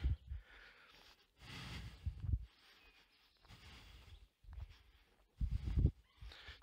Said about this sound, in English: you can probably hear me right now, I'm breathing pretty hard, and I've not walked that far.